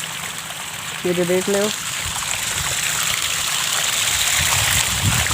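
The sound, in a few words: water flowing in a stream by a mango orchard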